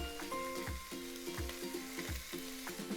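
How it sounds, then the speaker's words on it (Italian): Garlic sizzles gently in a pan with black pepper for a Cilento ragù, a soft steady frying hiss broken by regular knocks and scrapes of a utensil stirring. "Deve soffriggere poco, semplicemente per dar sapore all'aglio"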